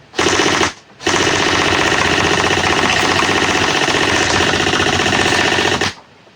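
A BZ DDM4 PDW gel blaster toy fires on full auto in two bursts, a short one and then a long steady one of about five seconds. The rapid mechanical rattling is loud and close, with no talking.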